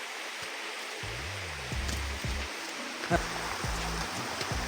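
River water flowing steadily as a soft, constant wash in the background, with several low tonal voice-like sounds breaking in over it partway through.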